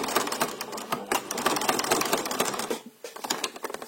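A sewing machine stitches elastic onto a fabric face mask, a fast rhythmic clatter of needle strokes in short runs, close and steady, with a brief pause near the end before it resumes.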